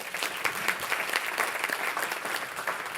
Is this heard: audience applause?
yes